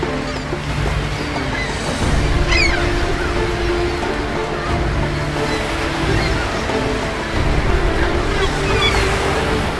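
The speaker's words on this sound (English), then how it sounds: "torrents of seawater swept over the cabin roof and cascaded over them" Ocean waves surge and wash heavily around a boat, torrents of seawater sweeping over the cabin roof, on a passage between the Faroe Islands and Iceland, with a steady rushing roar and louder swells breaking through at intervals.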